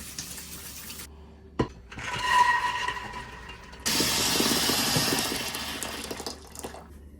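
Black-eyed beans rinsed under a running tap, water hissing and splashing steadily into a sink, loud and close, with a brief clatter and a short pause before a fuller, louder stream.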